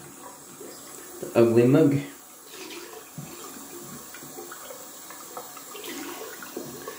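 Tap water splashes loudly for about half a second as a shaving mug is rinsed during a wet shave. Quiet background hiss and a brief spoken voice follow.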